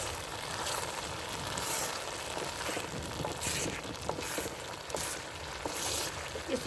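Semolina roasting in a pan for kheer while being stirred, a soft continuous dry sizzle with faint scraping of the spoon against the pan, steady and quiet throughout.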